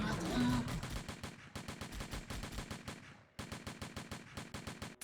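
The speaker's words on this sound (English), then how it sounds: "Also, she's just shooting with one gun." Rapid bursts of gunfire from a single gun in the top-down twin-stick shooter game Mad Devils, loud and continuous, with a brief gap near the end before the shooting resumes.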